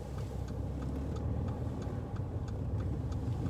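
A car turn signal ticking inside an adapted car during a driving lesson, evenly spaced faint clicks over a steady engine and road rumble.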